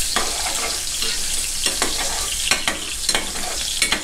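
Garlic fries in a hot wok with a dense, steady sizzle while a utensil scrapes and stirs in repeated sharp strokes, close and loud with no talking.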